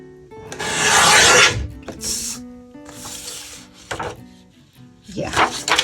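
Scissors snipping through a sheet of endpaper while making a book, giving close, dry rasping cuts in a few bursts with short pauses between them.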